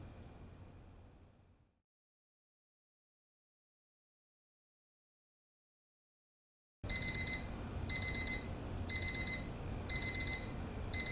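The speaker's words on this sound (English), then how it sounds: "Hate alarm noises like that." Repeated bursts of an alarm clock ringing in an SCP entity room video game, loud pulsing beeps in regular groups after a long stretch of silence, following faint rumble at the start.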